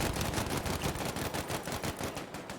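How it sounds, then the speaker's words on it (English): Rapid gunfire from the video game Battlefield V rattles in a fast, even burst of cracks for nearly three seconds, fairly close and loud with no talk over it. "I'm hearing gunshots, but I don't know where the enemies are."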